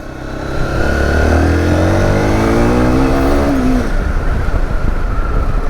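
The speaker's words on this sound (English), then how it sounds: "And it makes a pretty nice noise. Let's try a second gear pull." Zontes T2 310 motorcycle pulling hard in second gear from about 3000 RPM, a loud, close engine note climbing steadily in pitch for a few seconds before easing off.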